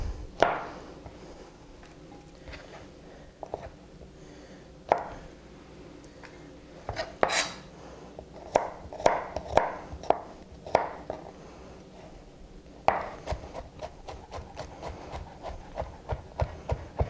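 A knife mincing garlic cloves on a cutting board makes sharp, close chopping taps, scattered at first, then quick rhythmic bursts with short pauses between.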